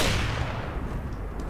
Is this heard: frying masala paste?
no